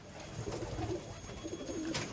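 Pigeons in a crowded loft coo in soft, repeated throaty calls over a low background murmur, several birds overlapping close by.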